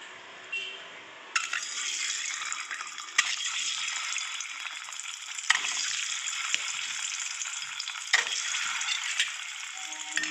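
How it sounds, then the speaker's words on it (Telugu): Eggs fry in oil with chili powder and turmeric for an egg curry, a bright, steady sizzle starting abruptly and swelling in several surges, with spatula scrapes between them. "దీనిలో మనం గుడ్లని ఫ్రై చేద్దాం."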